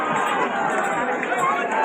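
A dense crowd gathers at a seven-day Ganpati immersion near a water fountain, a continuous murmur of many voices and shuffling feet heard close up for a brief moment.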